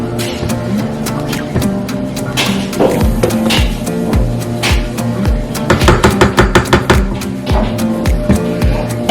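Spoon scraping banana pudding from the sides and bottom of a mixing bowl, a run of sharp, close scrapes and taps in irregular bursts that quicken into a rapid rhythm toward the end.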